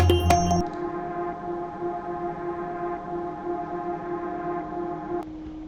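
Unprocessed psytrance synth pad repeating the same sustained tone over and over, steady and alone after a brief bright attack at the start, with no vocals.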